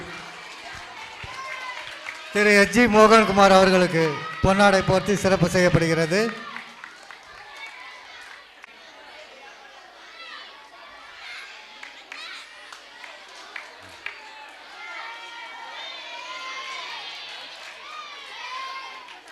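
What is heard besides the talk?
audience applause at school annual day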